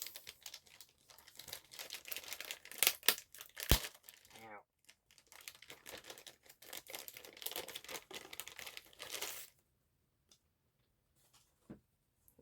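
Packing tape being pulled off and crinkled while a figure haul from Japan is unpacked, a close series of crackling rips and crumples with brief pauses and one sharp tear, fading to near silence with a final small rustle.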